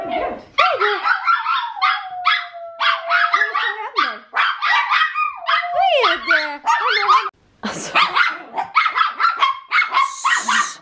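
Several dogs bark, yip and howl excitedly in a dense, continuous chorus, close and loud, with overlapping high whines and only brief pauses.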